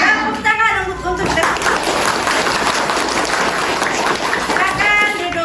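Schoolchildren in an Indonesian classroom clap their hands together in a lively, fairly loud burst lasting several seconds, with a teacher's voice and children's voices mixed in.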